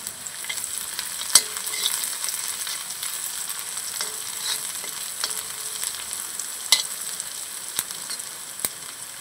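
Chopped onion, garlic and fine curry leaves fry in a pan with a steady, close sizzle, broken by occasional sharp clicks and scrapes as the mix is stirred.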